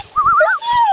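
Hunting hound on a wild boar hunt letting out a high wavering whimper, a single drawn-out whine with a second overlapping tone, close and clear, with faint background rustle.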